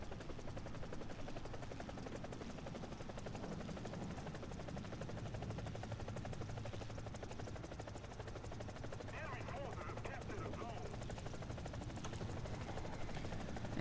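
EC-665 Tiger attack helicopter lifting off in the game War Thunder, a loud continuous rotor and turbine drone that holds steady throughout with a dense, pulsing beat.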